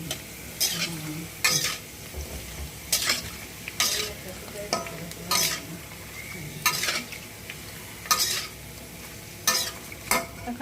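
Puffed fuchka puris fry in hot oil with a soft, steady sizzle, punctuated by about a dozen sharp scraping stirs of a metal utensil at an uneven rhythm.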